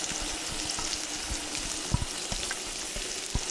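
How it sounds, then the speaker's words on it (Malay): Close, steady sizzling of chili paste frying in hot oil, with occasional pops and light stirring clicks. "Kena tumis tu sampai pecah minyak dan jadi sedikit garing."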